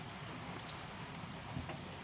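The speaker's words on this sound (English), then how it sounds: "Well, it's still raining, just for a change." Steady rain falls outside a workshop where a Triumph TR7's rear panel is being repaired, a soft even patter with scattered drops, faint and continuous with no talking.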